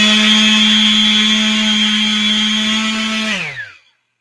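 A DeWalt power tool on turbo setting runs at a steady, loud, high-pitched whine. After about three seconds it abruptly winds down to silence.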